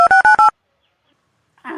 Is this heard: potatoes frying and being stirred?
no